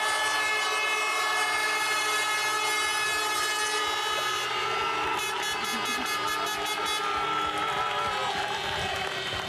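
Loud, sustained blaring air horns with harmonic tones, layered over a noisy outdoor crowd at a WRC rally in Estonia, continuing throughout.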